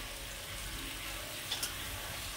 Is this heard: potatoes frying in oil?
yes